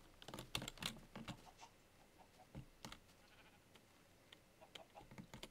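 Sheep bleating in Minecraft, a few short in-game bleats amid keyboard typing and clicking, fairly quiet and close, with no talking over them.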